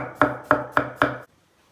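Four sharp knife chops through cauliflower on a cutting board in an even rhythm, close and crisp, then silence.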